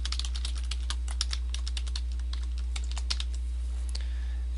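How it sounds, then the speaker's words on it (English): Quick, light clicks of a computer keyboard as a website name is typed, a dense close patter of keystrokes over a low steady hum. "type in your website name"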